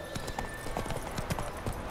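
Horse hooves clip-clop steadily in The Witcher 3 while riding, a rapid, even rhythm of soft thuds over a constant ambient game bed, with no talk.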